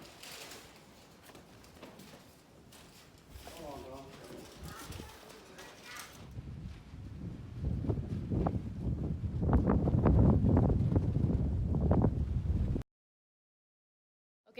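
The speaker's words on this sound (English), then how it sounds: "now it is windy" Gusty wind buffeting outdoors at a farmhouse construction site, building to a loud, rushing roar midway before cutting off abruptly, with faint talk and birds early on.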